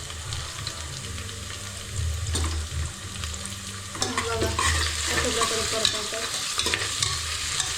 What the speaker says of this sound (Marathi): लसूण अद्रक आणि दोन मिरच्या ओके ते तेलावर टाकायची तिला शिजून घ्यायची